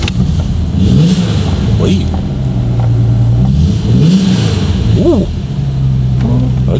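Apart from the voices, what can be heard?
Ford V6 engine starting and revving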